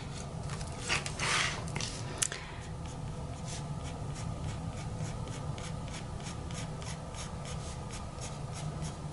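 Pencil drawing soft, furry strokes on paper while sketching a bunny: a steady run of short, rhythmic scratchy strokes close by, with a brief denser burst of scribbling near the start and no voices.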